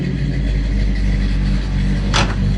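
A big block 454 V8 in a Chevy LUV idles with a deep, steady rumble, loud and close, with a brief hiss of air or rattle near the end and no talk.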